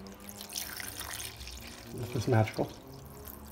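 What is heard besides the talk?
water being poured to fill a container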